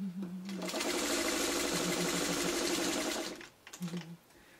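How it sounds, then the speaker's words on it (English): A sewing machine stitches a traditional quilt block in a steady, fast mechanical whir for about three seconds, close and fairly quiet, with brief soft clicks before and after the run. "And you just want to sew like one needle and keep your needle down"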